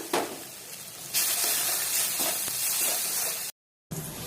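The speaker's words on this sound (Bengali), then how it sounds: "এবার দিয়ে দিলাম কাজু পেস্টটা" Cashew paste hits a hot pan for masala button mushrooms and sizzles loudly, with a short burst, then a steady louder frying hiss after about a second, a brief silence, and the sizzle resuming.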